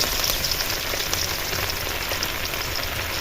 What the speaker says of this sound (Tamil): சமைக்க மழை வந்துக்கிட்டு இருக்குதுங்க.